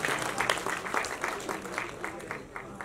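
Audience applause at a trailer release event, a dense run of clapping that holds steady at moderate level and swells in small waves, with no talk over it.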